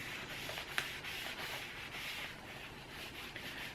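Warm encaustic wax being wiped off a mandala painting, a steady soft rubbing hiss with a single sharp tap partway through, close and quiet, no talking.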